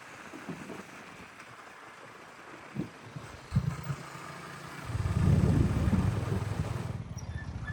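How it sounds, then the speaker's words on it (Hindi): Motorcycle taxi carrying a passenger toward the Thailand–Cambodia border: a faint engine hum under road and wind noise, swelling into a louder, rougher rumble midway as the bike picks up speed. "तो ये बाइक टैक्सी मिल गई है मुझे, और ये मुझे बॉर्डर तक लेके जा रहे हैं।"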